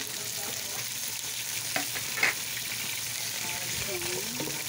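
Ground pork and tomato sautéing in a pan for ginisang sayote, a steady sizzle with brief stirring scrapes and clinks, moderately close.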